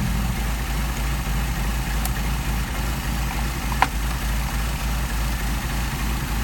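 An engine with a freshly tuned Solex carburetor idles at about 650 RPM in a steady, low, even rumble, close and continuous, with a brief sharp click partway through.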